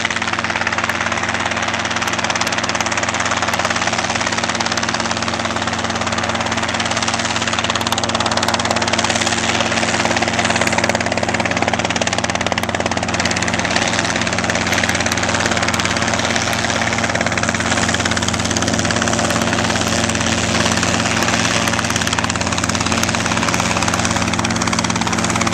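A training helicopter hovers and sets down at an aviation center in Utah on a student's solo flight, its engine and rotor droning loud and steady for the whole stretch, close by and with no talk.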